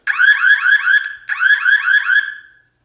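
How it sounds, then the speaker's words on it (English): A loud electronic siren from a Simcam Alloy 1S outdoor security camera warbles in two rapid bursts of rising and falling tones, cutting off abruptly with silence at the end. "So we just checked out the alarm there very quickly."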